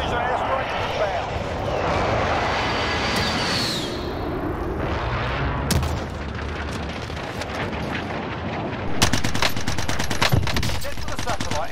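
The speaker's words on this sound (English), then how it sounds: "Be advised, friendly precision airstrike is inbound." Precision airstrike and gunfire in the Call of Duty Warzone video game, with dense crackling shots and broadband booms throughout and a louder burst near the end, heard over game voice lines and talk.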